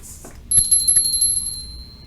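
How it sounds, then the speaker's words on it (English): A small hand bell rung once for clearing energy, a bright ringing strike that sustains a clear high tone and slowly fades over about a second and a half, heard alone in a quiet room. "got this little bell instead of the singing bowl because it doesn't reverberate through the whole house, but it does clear the energy"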